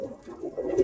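A pigeon gives a short, soft coo, close and alone, lasting under a second.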